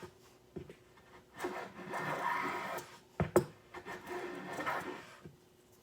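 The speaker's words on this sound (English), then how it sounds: "now it's taking very fine shavings" Sharpened #4 hand plane shaving fine curls off wood in a few slow strokes, soft rasping swishes separated by brief pauses and a couple of sharp knocks, close and clear.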